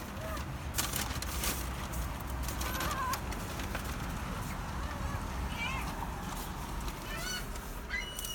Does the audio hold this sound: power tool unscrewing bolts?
no